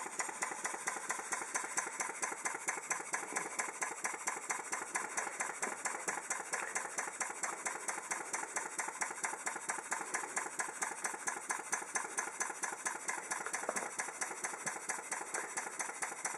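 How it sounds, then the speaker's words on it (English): A vertical steam engine with eccentrics driving a boiler feed water pump, running in a rapid, even mechanical chuff and clatter that holds steady for over fifteen seconds with no talking. "There you can see the eccentrics working, and that's the pump, of course, in there, which is pumping water back into the boiler."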